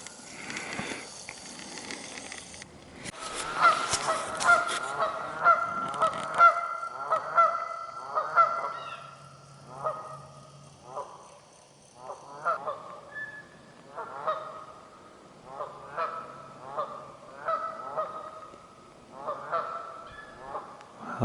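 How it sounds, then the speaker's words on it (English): Geese and ducks honk in a forest at night, with repeated, rhythmic bursts of calls that come and go, fairly near and continuing throughout, and a few louder sharp honks early on. "The ducks and geese have been going at it all throughout the night."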